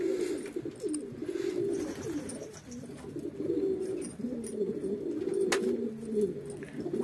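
Pet pigeons or doves fed outdoors in falling snow, cooing softly and repeatedly at close range with a few brief chirps, no talking.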